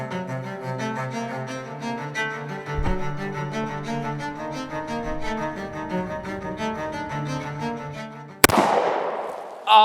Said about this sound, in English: At the 7 yard mark, once again, this is a 230 grain Federal Punch ammo.